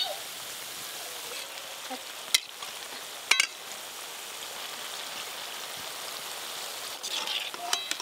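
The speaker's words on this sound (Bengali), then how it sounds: "তেলটা একবারে বুজবুজ বুজবুজ করছে" Potato and semolina snacks coated with sesame seeds fry in bubbling oil, giving a steady close hiss and sizzle with a few sharp crackles and clicks, and no voices.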